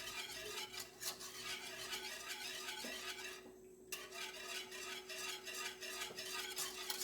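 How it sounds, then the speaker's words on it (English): Vegan custard stirred in a pot to thicken it, giving a steady, soft scraping and swishing that runs continuously through the whole stretch, with a faint low hum behind it and no voices. "we're just going to keep stirring this here to thicken this up"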